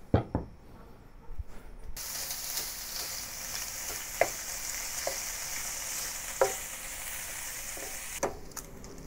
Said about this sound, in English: Add some oil to the pan to fry the bacon